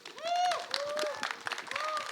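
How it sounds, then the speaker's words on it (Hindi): A crowd at a film trailer launch event cheers with rising whistles over scattered applause, fairly quiet and brief, with a few distinct whistle calls standing out. "इनके लिए बहुत सारी तालियां होनी चाहिए."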